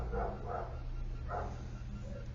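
Outside near a garage, a dog barks three times in the distance, two quick barks followed by a single one, faint over a low steady background hum.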